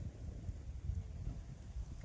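Low, blustery wind rumbles and buffets steadily throughout, fairly quiet, with no voices.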